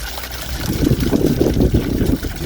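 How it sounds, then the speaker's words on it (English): Water trickling and gurgling as it is flushed through the engine block of a Reliant Regal Supervan, a close, steady splashing flow with no talk. "It's probably not the most orthodox way of cleaning that your engine block, but it's working."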